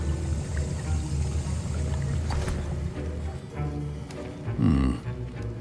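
Potion stirred in a cauldron in the video game Hogwarts Legacy, with thick liquid sloshing and bubbling in a continuous swirl that swells into a gurgling surge near the end.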